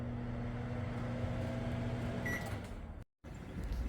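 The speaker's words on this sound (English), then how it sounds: "All right, microwave's fine. Got it plugged into the wall, and it's doing just fine." A microwave oven running while plugged into a wall outlet, a steady mechanical hum with a tonal drone that stops partway, followed by a brief silence and then faint room noise.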